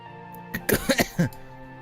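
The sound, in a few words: character coughing in video game Fate/Grand Order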